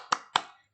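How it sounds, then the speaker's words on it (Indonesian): A class of young schoolchildren clapping in unison, two sharp claps about a quarter second apart, close and fairly faint, then quiet. "Kita tepuk semangat terlebih dahulu."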